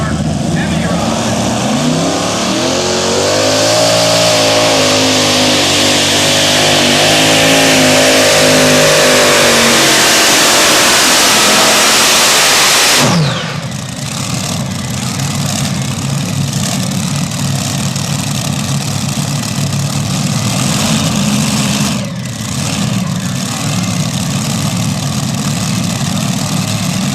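Heavy pulling truck at a tractor pull, driven by John Dugan of Hamburg, New York: a loud engine revs hard with rising harmonics, then drops to a rough, steady idle, with an announcer talking over it.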